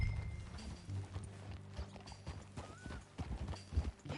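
Rhythmic clip-clop of horse hooves trotting steadily in Red Dead Redemption 2, with a brief whinny and soft game-like background ambience.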